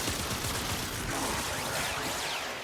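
Zakti Prime gunfire striking the floor in the game Warframe, a dense continuous rattle of rapid shots and impacts, loud and unbroken for the whole stretch.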